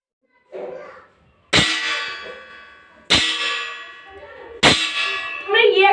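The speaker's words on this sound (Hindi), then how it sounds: "जब हमने उस थाली को मारा तब जाके एक वाइब्रेशन पैदा हुई जिससे हमको साउंड सुनाई दिया" A metal plate struck three times in a school sound demonstration, each blow a sharp bright clang that rings and slowly decays, with children's voices talking between and after the strikes.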